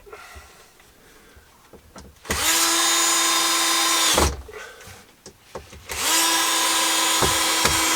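A cordless power drill drives screws in a cross pattern on a camping-car fitting, two sustained loud whirring bursts of about two seconds each, separated by quieter pauses with small knocks and handling sounds.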